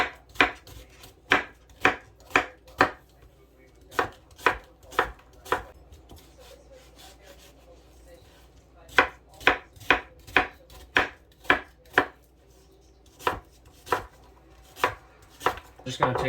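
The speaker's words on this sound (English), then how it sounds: "Once you've got your onion peeled, go ahead and start dicing it." A knife dices a peeled onion on a cutting board in steady bursts of sharp, close chopping taps, pausing briefly between runs, with no talking.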